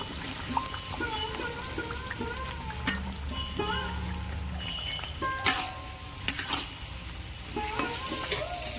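Boiled cauliflower and peas go into a pan of frying ginger, green chilli, tomato and spices, with steady sizzling and repeated scraping, clinking stirs of a spoon against the pan.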